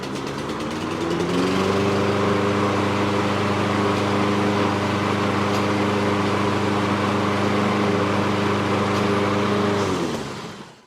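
A self-propelled lawn mower's small engine starts up and runs at a steady, buzzing idle for several seconds before cutting off, loud and close.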